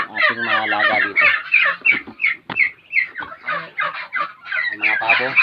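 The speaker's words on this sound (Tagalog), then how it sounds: "Yung mga pabo." Young turkeys about one and a half months old gobble and chatter at close range on a farm, a dense run of rapid overlapping calls.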